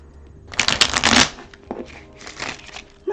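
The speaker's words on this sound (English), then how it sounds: "Let's pull all these cards up and shuffle them back in" A deck of playing cards riffle-shuffled twice, one long crisp burst and then a shorter, softer ripple, heard close with no speech.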